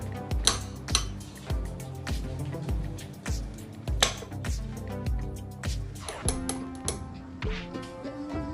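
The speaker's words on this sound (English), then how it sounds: "The butter's been weighed, so now we have to cut it up." A knife cuts butter on a board for homemade cookies, with a series of sharp taps and knocks in an irregular rhythm, close and clear, with faint clinks in the background.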